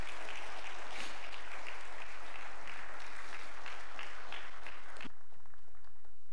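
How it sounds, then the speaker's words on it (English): A church congregation applauds in a sustained, dense wash of clapping from many hands, steady and fairly loud, before it drops off sharply near the end into a quiet room murmur. "we'll extend a round of applause and thankfulness and welcome to our new friends and family"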